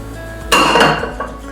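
Hot cooked jackfruit seeds tipped into a metal kitchen vessel make a short, loud clatter with ringing clinks, followed by a smaller knock, all close by.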